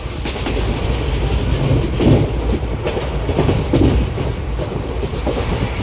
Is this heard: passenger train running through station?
yes